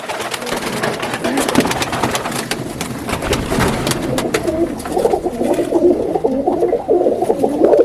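Pigeons coo inside a loft amid busy clattering and rustling, the soft rolling calls growing clearer toward the end over steady background noise.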